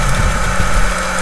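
Loud, steady drone of a tractor engine running at speed in Farming Simulator, a continuous rumbling hum with a faint knocking pulse and no voices.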